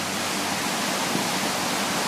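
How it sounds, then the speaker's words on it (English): Rushing river rapids swollen by spring thaw, a steady, dense roar of churning water filling the whole clip with no talk. "I just love rivers that are in rapids."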